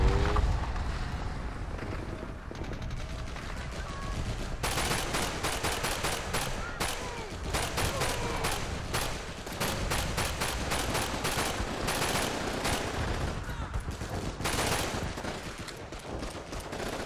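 MG42 machine gun in Call of Duty: Big Red One firing long, rapid bursts of dense, loud rattling shots over battlefield noise, with a brief quieter stretch at the start.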